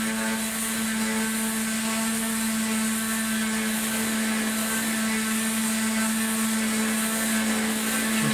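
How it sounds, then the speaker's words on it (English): Final sanding of a wooden stave drum shell with 220 grit paper, a steady close whirring hum with a strong constant tone throughout, likely a shell spun on a lathe, with no pauses. "Now I can do the final sanding on this shell with just the 220 grit paper."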